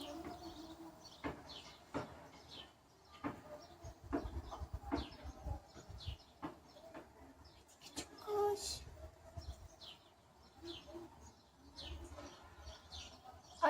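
A bird stuck inside a chimney flue gives short, sharp chirps at intervals against a noisy background. People talk nearby.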